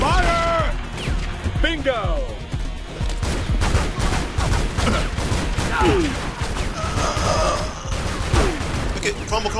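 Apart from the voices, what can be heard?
gunfire in the video game Tomb Raider Legend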